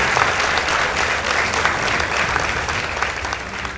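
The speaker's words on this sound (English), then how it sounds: "Let's give them a round of applause." A school debate audience applauds the winning team, Apostlic Camel Girls, with loud, sustained clapping from a large crowd that fades slightly toward the end.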